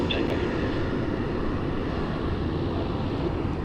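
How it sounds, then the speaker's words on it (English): American Airlines Flight 73 from Los Angeles landing on runway 34 left at Sydney Airport, a steady distant jet engine roar with broad wind-like rumble, constant and unbroken throughout. "coming in on 34 left, we have American Airlines Flight 73 from LA"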